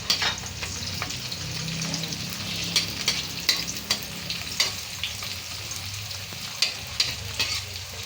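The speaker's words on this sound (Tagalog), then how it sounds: "Medyo luto-lutoin muna natin itong sibuyas." Small Ilocos onions fry in a pan with a continuous close sizzle and crackle, punctuated by sharp spatula scrapes and taps against the pan, without any talking.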